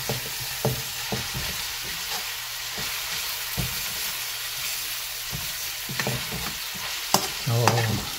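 Garlic and onion fry and sizzle steadily in a pan for a Filipino kare-kare stew, a constant close hiss broken by a few sharp knocks and scrapes of stirring, with no voices.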